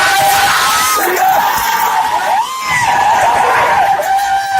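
A large crowd gathered at a textile mill in Kathua keeps up a loud, continuous roar of shouting and yelling, dense and close, with no clear single voice standing out.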